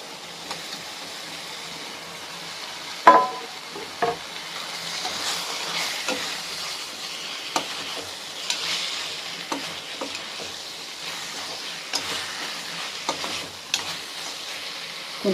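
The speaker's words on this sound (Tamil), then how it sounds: "மசாலா எல்லாம் நல்லா வணங்கி வர்ற வரைக்கும் கொஞ்சம் கிளறுங்க." Fried potatoes with garlic masala being stirred in a pan, a soft steady sizzle with repeated scraping clicks from the spoon, fairly quiet and alone.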